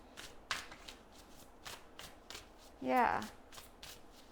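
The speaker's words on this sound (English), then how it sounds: "Now let's go ahead and pull a few cards right here." Tarot cards being shuffled and pulled, with soft rhythmic riffling taps throughout and one louder sweeping shuffle near the end, close by and under a brief spoken word.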